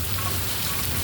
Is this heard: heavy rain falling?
yes